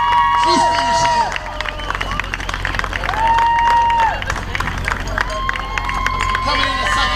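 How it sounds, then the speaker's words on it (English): Spectators cheer and clap at the finish line of the 2013 Marine Corps Half Marathon as a runner comes in, with an announcer talking loudly over the crowd throughout. "Cheer her on."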